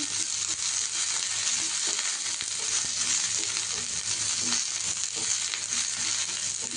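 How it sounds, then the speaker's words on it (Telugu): Chillies fry in a pan for peanut chutney, making a dense, constant sizzle and crackle close by, with faint stirring scrapes under it and no voices. "మిరపకాయలు అన్నీ చెక్ చేసుకున్నా ఇట్లా వేయించుకోవాలి"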